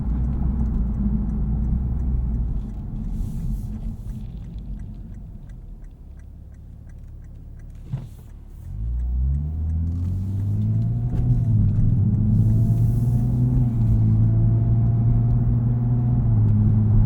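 Exhaust of a 2023 Lexus IS 350 F Sport AWD, a low rumbling drone that dips and thins, then after a click rises into a deeper throaty pull that climbs and holds with a strong steady tone.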